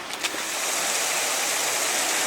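Steady running water trickles down through drain rock into a culvert beside a railway line in November, a close, continuous wash of broadband noise with no voices.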